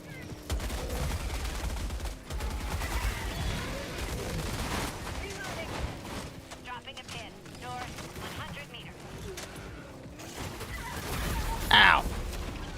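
Rapid gunfire rattles through a shooter game match, dense and continuous over a low rumble, with a sharp burst near the end while a player talks over it.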